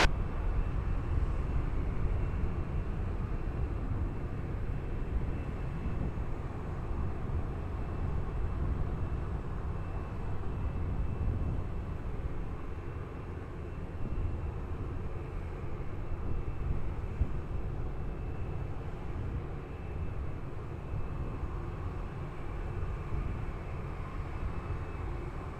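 Airplane landing on runway 20 at Lisbon Airport, a steady, distant jet rumble that holds evenly throughout with no voices.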